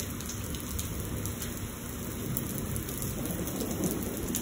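A heavy thunderstorm in Lubbock, Texas, with steady dense rain and low rumbling thunder blending into a continuous loud wash of sound.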